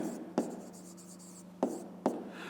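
Handwriting on paper during a fifth-grade maths exercise: quiet pen scratching with three sharper taps as strokes or marks are made, close and faint with no talking.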